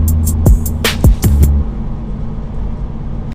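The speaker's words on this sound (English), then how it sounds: "Now I'm gonna continue driving." A semi truck rolls down the road with a steady low engine drone and road noise, and a few short sweeping tones pass early on before the sound settles into a constant hum.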